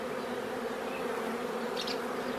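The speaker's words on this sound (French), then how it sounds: "C'est à la portée de tout un chacun d'accueillir une colonie d'abeilles chez soi" A swarm of wild honey bees settled into a straw hive box buzzes in a dense, continuous drone, loud and close without pause.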